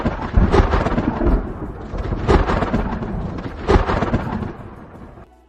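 Thunderstorm sound effect with deep, loud rolling thunder that swells in three big rumbling waves over steady rain-like noise, fading out at the end.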